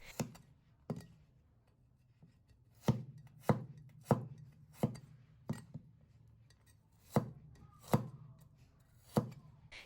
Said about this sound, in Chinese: 接着我们再来准备一大把防癌大蒜，把它们全部切成薄片。